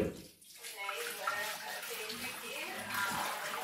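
Coconut milk pours into a pan at the start of a homemade lehyam, a steady watery rush and splash that runs close and fairly loud for the whole stretch, with a faint voice-like murmur underneath.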